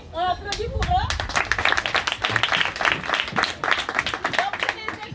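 Schoolchildren clapping together at a school session on marine pollution, a run of quick, uneven claps close by, with voices speaking at the start and mixed in throughout.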